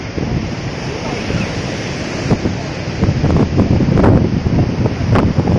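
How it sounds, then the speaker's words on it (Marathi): Sea waves rushing and breaking nearby at the coast by Kunkeshwar temple, Devgad, a broad continuous roar with swelling surges, blended with gusty wind noise. "मागे सगळा समुद्र मस्तपैकी पाण्याचा आवाज खूप येतोय"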